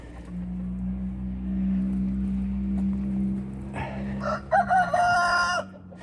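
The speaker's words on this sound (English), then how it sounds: "it's a big leghorn rooster" A big leghorn rooster crows loudly and nearby, with a few clucks, over a steady low droning hum that runs under the whole stretch.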